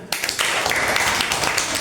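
Classroom of children clapping together after a teacher's cue, a dense burst of applause starting abruptly and continuing steadily, close and loud, with a little voice mixed in.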